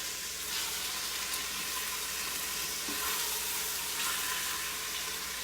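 Chicken skin frying to golden brown in a pan, a steady close sizzle with hissy crackle running throughout, loud and continuous with no talking.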